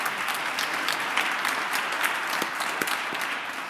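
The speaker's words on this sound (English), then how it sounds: "Now, you can applaud them" Sustained applause from a church congregation at a jazz memorial service, a steady dense patter of many hands clapping at even loudness throughout, with no voices over it.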